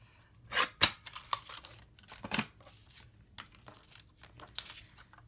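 Scissors snip through crushed curry cardstock in a few sharp, close cuts, separated by quieter rustling and handling of the paper, with no talking.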